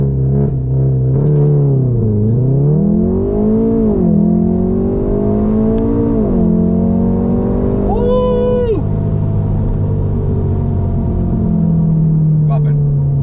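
A 2015 Volkswagen Golf R MK7 hot hatch accelerates hard in its sport/race mode, its engine note climbing loudly in repeated rising pulls through several gear changes, heard from inside the cabin.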